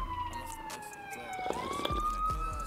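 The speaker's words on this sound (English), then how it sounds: "There's police and it's kind of loud." A police car siren wails at a distance, its tone gliding down and then rising again, steady and moderately faint over quiet background noise.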